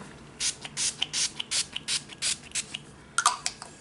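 A quick series of short, sharp bursts of makeup setting spray, about a dozen in a rapid uneven rhythm, close and fairly quiet, with a couple of faint clicks near the end.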